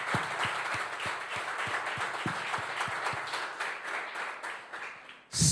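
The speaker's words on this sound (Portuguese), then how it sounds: "Você pode aplaudir o Senhor por isso" A church congregation applauds the Lord during a sermon, with sharp, regular claps in a steady rhythm that fade slightly before a louder burst at the very end.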